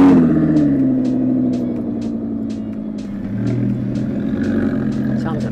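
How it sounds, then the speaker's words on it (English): An Alfa Romeo engine revs at a supercar gathering, its rising and falling note paired with a rhythmic mechanical ticking, while nearby voices talk over it. "Sounds amazing, that Alfa Romeo as well."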